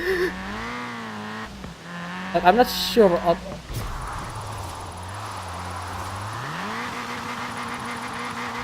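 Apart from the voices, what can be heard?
Toyota Trueno AE86 drifting, from video game Forza Horizon 4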